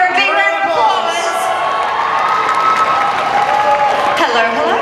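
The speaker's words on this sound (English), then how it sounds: "Give her a big round of applause." Applause and cheering from a crowd at a cosplay contest: loud, sustained clapping with whoops and shouts layered over it and a lively hall atmosphere throughout.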